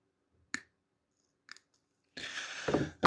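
Scissors cutting fishing line while tying a two-hook flapper rig for flounder: two faint, crisp snips a second apart, then a louder rustling handling noise, close and quiet.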